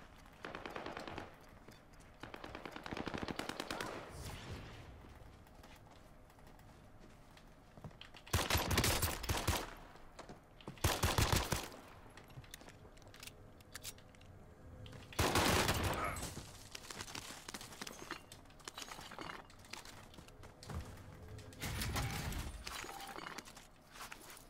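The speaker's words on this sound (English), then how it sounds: "Oh, I'm getting shot at." Bursts of gunfire in the Warzone video game, several loud volleys of rapid shots separated by quieter stretches with footsteps and movement, spread across the whole stretch.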